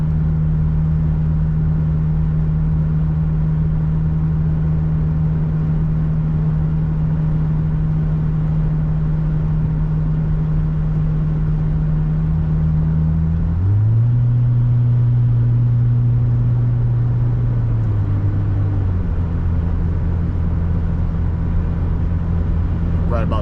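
A third-generation Nissan Frontier cruises at about 65 mph and 1600 RPM, its engine and exhaust a loud, steady low droning hum inside the cab, shifting pitch slightly midway before settling back, with no talk over it.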